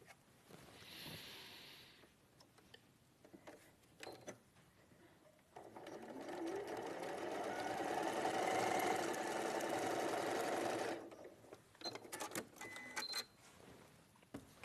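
A sewing machine stitches a quilt square, its rapid mechanical whirr building to a steady run near the middle, with stops, starts and handling clicks before and after.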